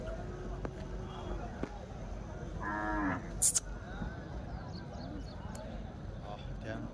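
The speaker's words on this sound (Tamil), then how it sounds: "காளை இல்லைங்க இது வந்து பசுமாடு" A cow at the Vaniyambadi cattle market gives a single drawn-out moo midway, heard among the market's background murmur of people and a few brief clatters.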